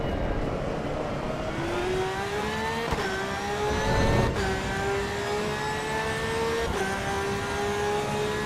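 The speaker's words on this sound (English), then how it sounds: "Very unique Porsche sound." A Porsche engine in the Project Motor Racing video game revs steadily and loud throughout, its pitch rising and settling with brief dips around gear changes.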